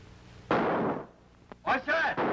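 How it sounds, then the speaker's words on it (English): Booming cannon blasts and a crackling burst of gunfire from a 1934 film soundtrack, a heavy roar followed by a sharp thump and a rattling volley. "Gunfire! Cannons! It's revolution!"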